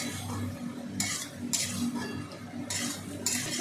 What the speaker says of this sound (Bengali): একটু কষিয়ে নিই মশলাটা